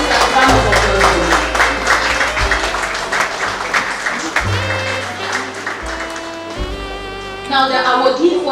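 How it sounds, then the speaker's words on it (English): Applause from an audience at a dinner and awards night fills the room in a steady wash of clapping, with a voice speaking over it and tonal background music running underneath. "Please, a round of applause"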